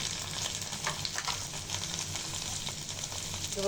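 Garlic, cumin and ginger paste frying in hot oil for a koi fish bhuna, a steady dense sizzle with light crackles throughout, close and loud with no talking.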